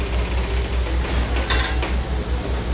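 The SP Daylight 4449 steam locomotive backs up slowly with a rhythmic, heavy low chugging beat, faint metallic clanks and a brief squeal, recorded close and without voices.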